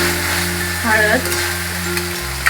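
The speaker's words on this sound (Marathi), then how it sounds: "तेलामध्ये चांगलं परतून घ्यायचं व्यवस्थित" Ginger garlic paste, coriander powder, cumin powder and turmeric sizzle in hot oil as they are sautéed, a close, steady frying hiss with a brief stirring scrape partway through.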